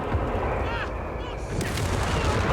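Heavy 17-pounder anti-tank guns and incendiary fire in the video game Company of Heroes 3, dense booming blasts and rumbling explosions filling the moment, with a commentator talking over them.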